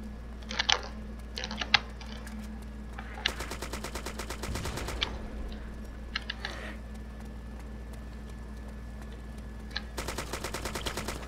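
Gunfire in the DayZ video game comes in bursts of rapid automatic shots, with several single cracks scattered between them, over a steady low electronic hum.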